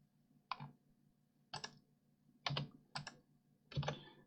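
Keyboard shortcut keys being pressed on a computer while modeling in SketchUp: five separate crisp clicks spaced about a second apart, close and clear against a quiet background.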